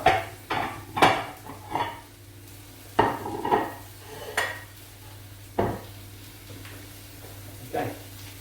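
Plates and cutlery clatter in a kitchen while beef and spinach are plated: sharp, close clinks and knocks of ceramic and metal come in irregular bursts over a faint background hum.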